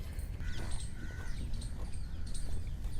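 Birds call in scattered, faint chirps and short whistles around the ruins of Purana Qila, a Delhi fort, over a steady low rumble of distant background noise, with no one talking.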